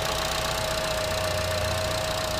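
A 2016 Buick Encore's 1.4-liter turbo engine idles with a steady, even hum and a faint tonal whine, heard close and alone without talk.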